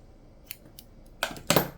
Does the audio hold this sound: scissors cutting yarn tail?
yes